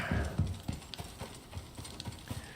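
Horse hooves clip-clopping in the Icarus survival game, a steady run of distinct close hoofbeats after a brief louder opening clatter, alone without speech.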